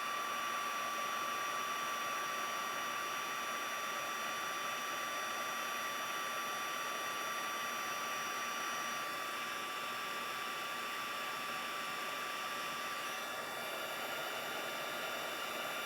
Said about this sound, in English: Take the heat tool again and